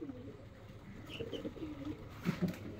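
Pigeons, including a black one, coo softly in low, throaty murmurs while feeding, several birds close by, with quiet outdoor background noise.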